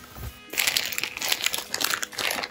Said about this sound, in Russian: Здесь у нас брендованный пакетик, на нем надпись Monos Audio находится.